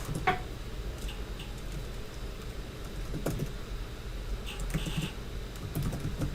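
Fast, close computer keyboard typing while writing C++ code, with bursts of clicking keys and brief pauses and no talking.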